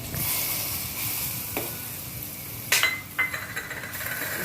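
Ground masala sizzles steadily in hot oil with a constant hiss, broken by a few sharp clinks of a utensil against the pan.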